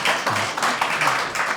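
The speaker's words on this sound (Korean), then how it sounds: "박수로 좀 맞아주세요." A small audience at a Korean political candidate's live talk event claps briefly to welcome someone to the stage, a short, fairly close patter of hands.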